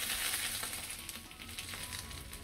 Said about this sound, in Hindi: उसके ऊपर हम ये तड़का जो बनाया है वो डालते हैं।